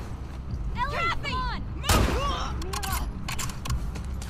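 Rifle fire in the video game The Last of Us Part II cracks out in one loud burst amid shouting voices and rumbling combat noise.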